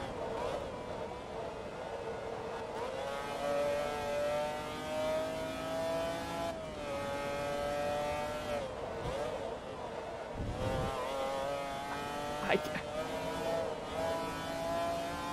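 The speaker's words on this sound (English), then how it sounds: "absolutely in awe at the engine noise" McLaren F1 engine in the racing game Forza Motorsport 2 wails through rising and falling revs and gear changes, steady and prominent, with faint talk beneath.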